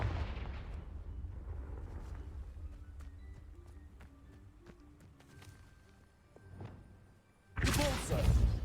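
A Confringo spell blast from the video game Hogwarts Legacy erupts as a loud, close burst near the end, after a stretch of lighter game effects.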